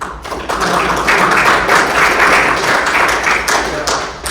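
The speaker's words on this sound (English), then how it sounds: "big round of applause for Nikhil" A conference audience at a test automation summit breaking into dense, close applause after a talk, a steady wash of clapping hands that swells and fades slightly toward the end.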